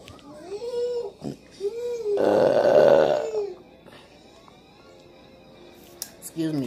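A single drawn-out burp lasting about a second, loud and close, from someone eating a home-cooked soul food meal, with brief vocal sounds before and after.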